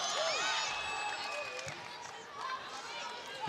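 A volleyball arena crowd at a Major League Volleyball game cheers and applauds during a rally, the noise rising and falling in the background under continuous commentary and whistle-like squeaks from the court.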